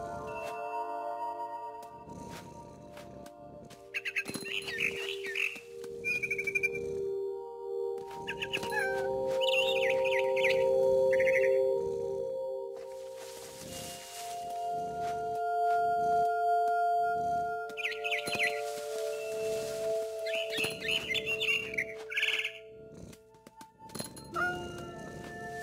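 A bird in the video game What Remains of Edith Finch gives several short bursts of bright chirps, spaced apart over steady background tones and soft game ambience.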